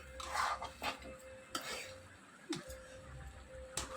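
Egg fried rice with coriander and kasuri methi is slowly stirred in a pan, giving scattered faint clinks and scrapes of a spoon against metal at an uneven rhythm, quiet and without speech.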